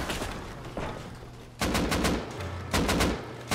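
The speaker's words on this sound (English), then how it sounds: "Gunfire" Rapid bursts of gunfire crack during a raid in the video game Rust, arriving in two dense volleys over a low, steady background rumble, loud and close with no talking.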